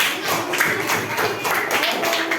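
A fifth-grade classroom claps for a student, a dense, steady burst of many hands close by, with children's voices mixed in.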